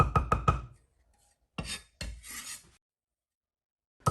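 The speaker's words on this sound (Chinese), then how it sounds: "1小块生姜拍碎剁碎" A knife smashes and minces a small piece of fresh ginger on a cutting board in a Chinese kitchen: four quick chopping knocks, a pause, then two short scraping rubs, with a last knock at the end.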